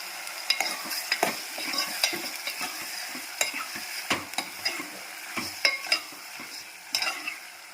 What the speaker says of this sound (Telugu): పెద్ద ఉల్లిపాయలు. ఉల్లిపాయలు వేసేసుకున్నాను.